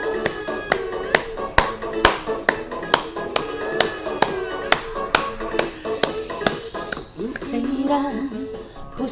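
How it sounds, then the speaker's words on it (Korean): An audience claps in unison, sharp evenly spaced hand claps about twice a second over a tonal musical backdrop, with some voices joining toward the end. "박수 치면서 손 좀 풀고"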